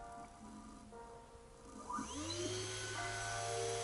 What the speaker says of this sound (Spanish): Cuando freno este motor, este otro sí funciona.